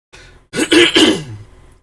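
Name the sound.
throat clearing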